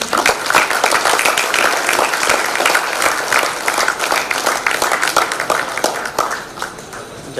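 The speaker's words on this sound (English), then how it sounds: "Let's give him a warm round of applause" Warm, dense applause from a convocation audience at an IIM ceremony, many hands clapping continuously and loudly throughout, gradually easing toward the end.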